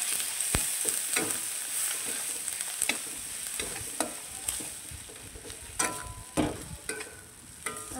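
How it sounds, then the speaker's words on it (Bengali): Spice paste of turmeric, chilli and cumin powder frying in a pan, with spoon scrapes and knocks over a soft sizzle. The stirring strokes come in irregular bursts, close and moderately loud, with no talk. "লঙ্কার গুঁড়ো, জিরের গুঁড়ো দিয়ে ভালো করে মশলাটাকে একটু কষিয়ে নেব।"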